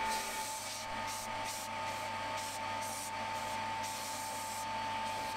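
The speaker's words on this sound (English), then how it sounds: "And then I sanded the edges and softened the corners." Plywood bowl base edges being sanded: a steady abrasive whir with repeated rhythmic strokes and a constant tone, alone and moderately quiet.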